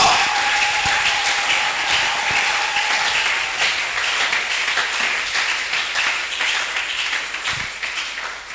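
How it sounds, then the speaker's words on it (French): A church congregation breaks into loud, sustained applause, dense clapping that continues steadily throughout, with a brief tone early on and no clear speech. "On peut l'acclamer fort."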